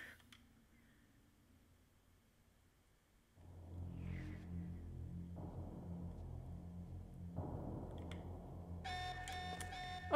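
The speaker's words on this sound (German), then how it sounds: "Da ist der Alarm erst ein bisschen später losgegangen." A game alarm blares inside the Louvre level of Tomb Raider: The Angel of Darkness, a loud sustained drone with layered tones starting a few seconds in and a shrill high ringing joining near the end.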